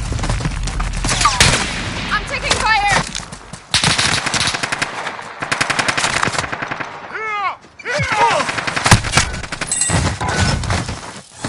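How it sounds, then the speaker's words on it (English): Rapid machine-gun bursts and single gunshots in the Call of Duty video game, loud and close, with short gaps between bursts and game voices talking over the firing. "I'm taking fire."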